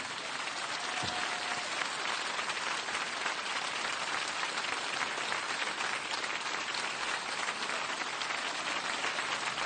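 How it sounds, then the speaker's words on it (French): A television studio audience applauds backstage at Serge Lama's big variety show, with steady, dense clapping that fills the whole stretch at an even level and no voices over it. "Applaudissez Sophia et Saïdi."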